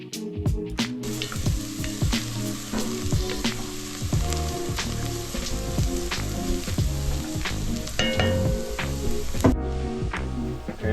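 Onions and minced garlic frying in oil sizzle steadily and loudly up close, with a few stirring scrapes and clicks through the crackle before it cuts off near the end.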